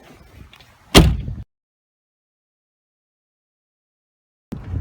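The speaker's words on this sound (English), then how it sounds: "This is your wind shutoff door." The walk-through windshield door on a 2006 Four Winns 290 Horizon boat shuts with one loud, close thud after faint rustling, followed by silence and a brief later noise.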